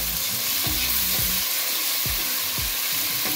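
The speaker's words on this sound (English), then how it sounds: "Two teaspoons of ginger garlic, and I'm just gonna give that a quick stir." Ginger garlic paste sizzles steadily in a pot for a lamb curry, with a few scraping stirs of a spoon cutting through the constant hiss, close and fairly loud.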